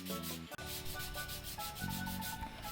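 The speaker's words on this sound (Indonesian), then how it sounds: "kita mengamplas benda kerja itu dengan amplas grit 240" Hand sanding of wood with 240 grit sandpaper: steady, continuous rasping strokes, close and fairly loud, with no voices.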